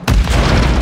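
Call of Duty Modern Warfare gunfire hits as a loud, close, booming burst, a sudden heavy report followed by a dense rolling rumble of rapid shots, with no talk over it.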